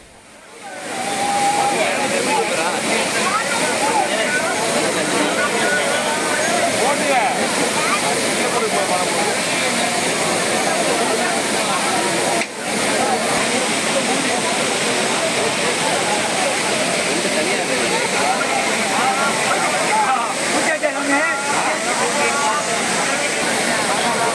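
The Courtallam waterfalls in Tenkasi district, crowded with tourists and Ayyappa devotees, give a steady loud roar of falling water that stays unbroken throughout.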